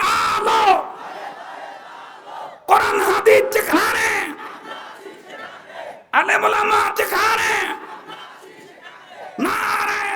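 A crowd at an Islamic religious gathering (mahfil) roars the takbir chant in loud massed shouts, in about four separate bursts with short gaps between them.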